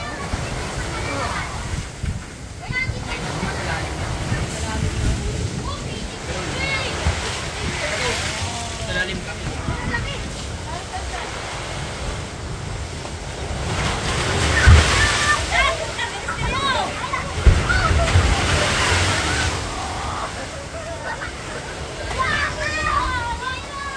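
Large waves slosh and crash against a wooden outrigger boat during a typhoon in the Philippines, a continuous roaring wash of water with heavier surges, while people talk throughout.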